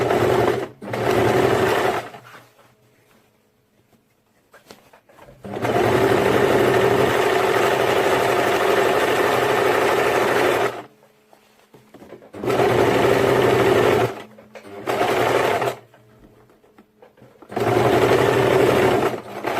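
Sewing machine stitching elastic onto a ruffle crop top, running in several loud bursts of steady whirring separated by short silent pauses, with no talking.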